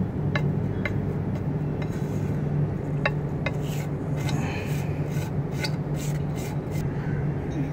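Epoxy tile grout mixed with filler is stirred by hand in a container, giving a continuous close scraping and rubbing with repeated light clinks of the tool against the vessel.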